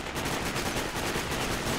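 Rapid gunfire from the Sniper: Ghost Warrior shooter game, dense repeated shots pounding one after another in a loud, steady barrage with no talk.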